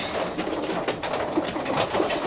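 Soft, low pigeon cooing repeats a few times close by, over a faint steady background hum.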